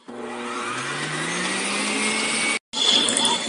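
A stand mixer on its first or second speed whips chantilly cream, giving a steady loud whirring motor drone that rises slightly in pitch, cuts off abruptly, then restarts briefly.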